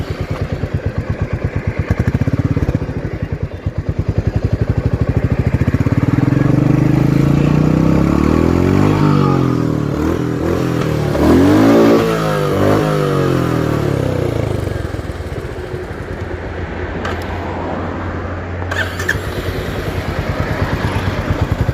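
Royal Enfield Meteor 350 single-cylinder engine thrums steadily while riding, loud and close, with pitch rising and falling as the bike accelerates and eases off, wind noise mixed in.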